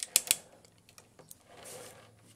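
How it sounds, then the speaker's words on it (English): Ratchet joints on a Fans Toys FT-40A Hannibal transforming figure clicking as a limb is moved, a couple of sharp, close clicks followed by fainter small ticks, quiet and with no talking. "They are ratchet joints, but they're good smooth ratchets."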